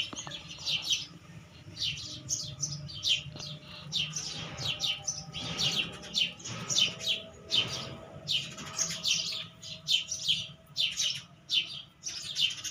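Many small birds chirp and tweet continuously, their busy overlapping calls filling the air over a low background hum.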